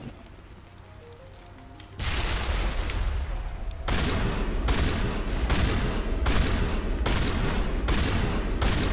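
Sustained heavy gunfire during a Mass Effect firefight, starting quieter then jumping into loud continuous bursts broken by short gaps, close and crackling throughout.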